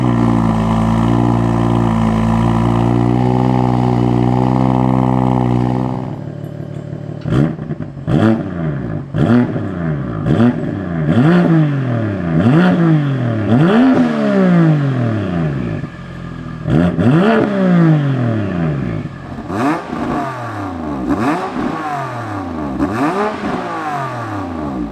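A single-turbo BMW F82 M4 with an aftermarket exhaust, raised on a lift, holds a steady droning idle before the engine is blipped into a string of loud, sharp revs that rise and fall in quick succession.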